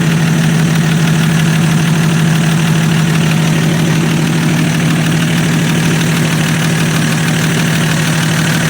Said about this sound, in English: There's that Mercedes-Benz clutch fan running.